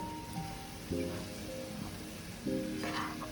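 Homemade granola is stirred in a hot pan, giving a dry crackling sizzle broken by two clear scraping sweeps of the spoon across the pan.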